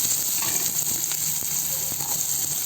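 Sliced onions and green chillies frying in a little hot oil, a steady close sizzle with a bright hiss and occasional soft stirring clicks, continuous and fairly loud without talking.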